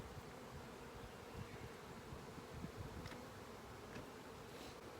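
Honey bees buzz around an open hive during an inspection, a dense, steady, low hum filling the background with a few louder passes of individual bees near the ear; no one speaks.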